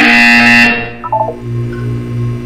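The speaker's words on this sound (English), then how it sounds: "You will hear a buzzer. When you hear the buzzer, look up at the ceiling." A loud electronic buzzer from the video game Portal 2 sounds for under a second, then cuts off into a few faint, short electronic tones and a low hum.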